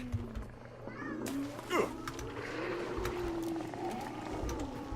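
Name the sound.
cat meowing in Hunt: Showdown video game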